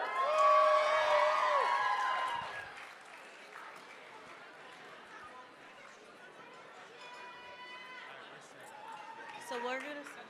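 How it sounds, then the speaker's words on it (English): A crowd welcomes performers at a family celebration with loud cheering, whoops and applause at first, which settle into scattered chatter and voices before another brief rise near the end. "Let's welcome with a loud cheer all of her nieces and nephews from all parts of the world"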